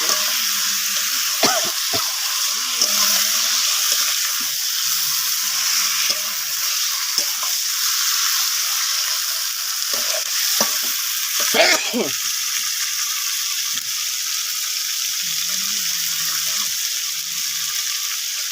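Chicken pieces being fried and stirred in a pan, a loud continuous sizzle with scattered scraping of the spatula and brief low background noises, up close throughout.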